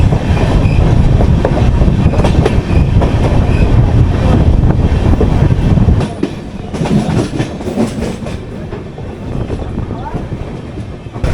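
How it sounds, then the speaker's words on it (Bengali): A passenger train on the Kolkata to Kamakhya line runs along the rails, heard from on board as a loud, steady rumble with a rhythmic clatter. It eases to a lower roar after about six seconds. "চলুন আবার ট্রেনে উঠে যাক"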